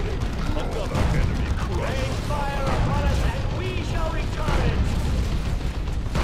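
Loud battle noise from Dawn of War 2 keeps up throughout, with booming blasts and crackling fire that could include a grenade explosion, under voices and game speech.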